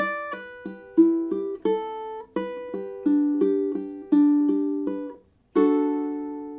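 A ukulele picks out a short fingerstyle melody, single notes ringing and decaying in an uneven rhythm, close and clear, with a brief pause near the end.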